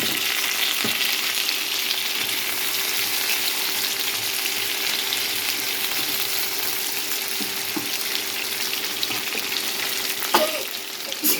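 Tomatoes and carrots sauté in a pan for Filipino beef caldereta, giving a steady, dense sizzle throughout with a few light clinks of a utensil against the pan near the end.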